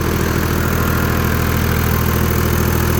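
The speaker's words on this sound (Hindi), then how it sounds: "ये ट्रैक्टर की रेस देख लें आप" A tractor engine running hard to power an old tube well, a loud, steady, throbbing mechanical drone with a rapid regular pulse, close by and continuous throughout.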